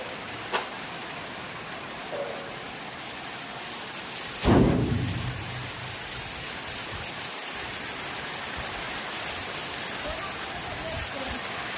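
Heavy unseasonal rain pours down with wind at a school in Chalala, a dense, even roar of falling water with a brief louder whoosh partway through and a faint low rumble, no voices heard.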